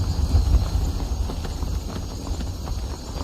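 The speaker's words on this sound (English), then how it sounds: "Several wild horses." Wild horses gallop in the video game Skyrim, their hoofbeats a soft, muffled clip-clop over a low rumbling ambience, fairly distant and continuous.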